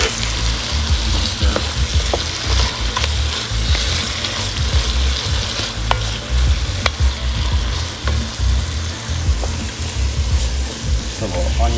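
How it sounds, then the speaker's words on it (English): Chopped celery and onion with a splash of Worcestershire sauce sizzle loudly in a pan while being stirred, a close, constant crackling fry broken by spoon scrapes and clinks. "now we'll add the celery and the onion. Add some Worcestershire"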